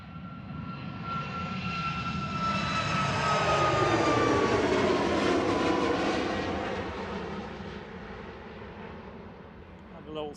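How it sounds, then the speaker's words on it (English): A Ryanair Boeing 737 MAX 8-200 departs Manchester Airport, its jet engines swelling into a loud broad roar that peaks mid-pass and slowly fades as it climbs away, with some faint background talk. "Ryanair departing to Carcassonne here."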